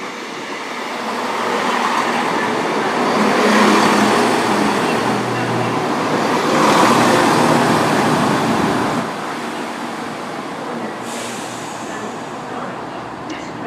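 A Class 172 diesel multiple unit passes through Ipswich station on the Great Eastern Main Line, a steady loud rumble that swells twice and then eases, with no talk over it.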